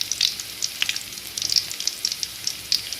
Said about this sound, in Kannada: ಸಾಸಿವೆ ಸಿಡಿದ ಮೇಲೆ ಬೆಳ್ಳುಳ್ಳಿ ಹಾಕಿಕೊಳ್ಳಿ, ಜಜ್ಜಿಟ್ಟ ಬೆಳ್ಳುಳ್ಳಿ